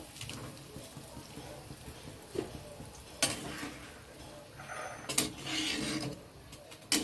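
Fried potatoes are tipped into a boiling curry and stirred, giving a soft bubbling simmer with a few louder scraping, splashing stirs of a spoon against the pan, fairly quiet and close.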